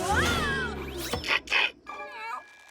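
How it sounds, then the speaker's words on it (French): A cartoon kitten stuck in a tree meows several times in a row, high and wavering, close by, with a brief pause between cries. "Le petit chaton est coincé dans un arbre."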